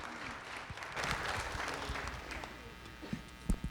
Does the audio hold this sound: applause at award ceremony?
yes